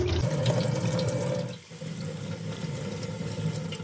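Water runs steadily from a tap, splashing over strained food held beneath it, briefly dropping off midway before flowing again.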